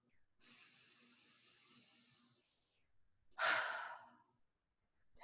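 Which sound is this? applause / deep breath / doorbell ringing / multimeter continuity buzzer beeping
deep breath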